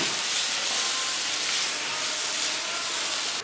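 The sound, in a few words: chopped tomatoes added to pan and stirred, sizzling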